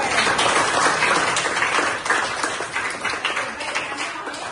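A classroom of students claps together after a correct answer, a dense, loud burst of applause that holds steady and then tapers slightly toward the end.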